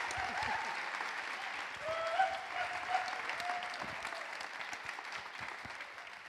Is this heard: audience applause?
yes